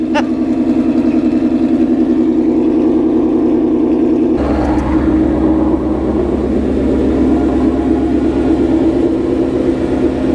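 A Ford Mustang engine with long-tube headers, no catalytic converters and a Corsa cat-back exhaust starts up loud, a deep, throbbing exhaust rumble that shifts pitch partway through, steady and close throughout.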